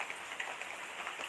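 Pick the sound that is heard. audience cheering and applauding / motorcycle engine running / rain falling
rain falling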